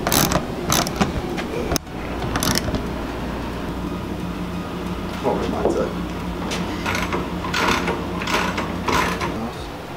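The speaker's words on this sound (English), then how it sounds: "We're going to tighten each individual bolt nut." A ratchet tightens bolt nuts on the spoiler rods of a Mini Cooper, giving close, rapid clicking runs and mechanical grinding in repeated bursts with a sharp knock early on, over a steady background hum.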